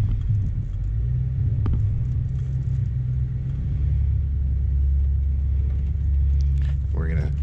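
A Range Rover Sport L494 in four low with stock Pirelli Scorpion tires climbs a sandy hill, its engine a steady, loud low rumble throughout, with a brief higher whine near the end.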